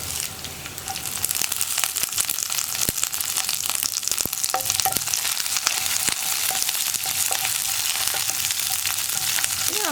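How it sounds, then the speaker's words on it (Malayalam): Dried red chillies and a sprig of curry leaves fry in hot oil for a coconut chutney tempering, giving a steady, loud, close sizzle with occasional sharp pops and crackles throughout. "വറ്റൽമുളക് ചേർത്ത് ഉടനെ തന്നെ നമുക്ക് 1 തണ്ട് കറിവേപ്പിലയും ചേർത്ത് കൊടുക്കാം."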